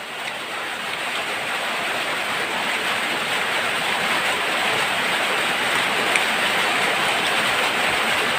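Heavy rain pours down in a dense, constant roar, unbroken and loud throughout, with no voices.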